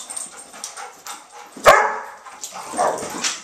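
Dogs play indoors in a house, giving scattered yips and whimpers, then one sharp, close bark followed by more excited barking and yipping.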